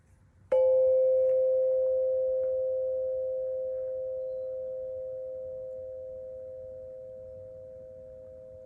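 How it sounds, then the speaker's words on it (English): A single meditation bell struck once, ringing out a clear pure tone that slowly fades over several seconds in otherwise quiet surroundings. "Stay with the sound of the bell from beginning to end."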